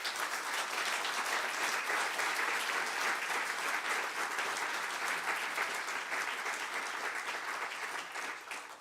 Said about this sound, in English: Also, again, want to please join me in giving the biggest round of applause to Dr. Sylvia Earle